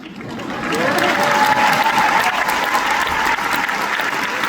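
An audience at an inspirational speech breaks into loud, sustained applause, dense clapping that swells within the first second and holds steady until the end.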